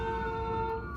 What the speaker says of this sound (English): And that would be an ambulance,